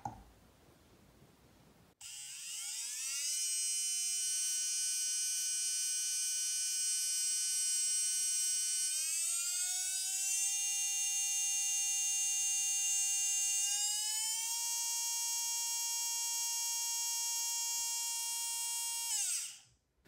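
A Team Powers Actinium V4 9.5T brushless RC motor spins up unloaded on the bench, giving a steady, loud high-pitched electronic whine with stepped pitch rises as speed changes, running alone for about eighteen seconds before cutting off.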